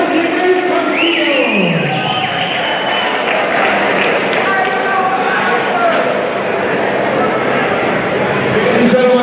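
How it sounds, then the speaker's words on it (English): Crowd at a Cage Legacy cage-fighting event applauds and cheers the fighter Nicolas Cocuccio, a loud, continuous roar of clapping and shouting voices filling the hall, with an announcer speaking over it at the start. "This is our applause for Nicolas Cocuccio."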